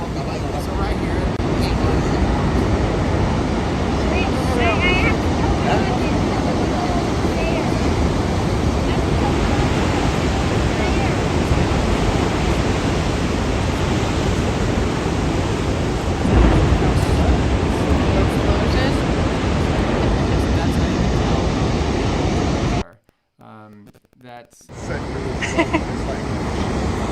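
Large ocean surf rolls as a continuous, loud roar of breaking waves with a jet ski somewhere in the set, broken by a brief dropout near the end.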